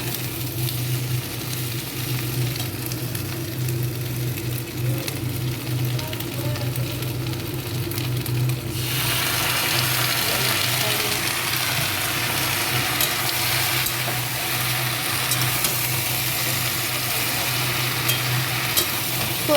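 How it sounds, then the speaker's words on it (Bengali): Chicken frying with capsicum and onion for chilli chicken, a steady sizzling hiss that swells louder partway through as ingredients are stirred, close and continuous without talk. "তো ক্যাপসিকাম আর পেঁয়াজের মধ্যে এবার চিকেনটা দিয়ে দিই, একটু ভালো করে কষাতে হবে।"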